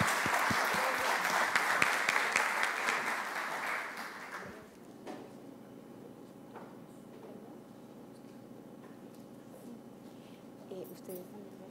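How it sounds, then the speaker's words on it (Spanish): Applause from the audience at a panel discussion on school bullying, fairly loud for about four seconds, then quickly dying away into quiet room tone with faint murmurs. "Vamos a darle las gracias a doña Yerma, un aplauso por la participación"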